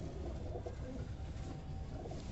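Kalsira pigeons of the Madrasi type cooing in a loft, soft low repeated coos layered over one another, steady and fairly close with a busy, continuous murmur and no talking.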